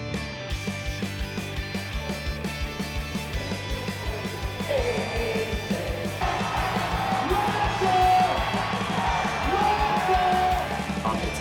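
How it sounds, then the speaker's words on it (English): Celebratory crowd cheering and whooping at a July 4th minor-league baseball game, the Reno Aces home stadium, a steady wash of distant fan noise that swells louder partway through over a rhythmic thumping beat. "Celebratory crowd."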